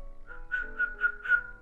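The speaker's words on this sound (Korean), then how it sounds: "휘파람 불면 오지" A person whistles a short run of four rising, bird-like notes to call a cat in a quiet room, clear and close.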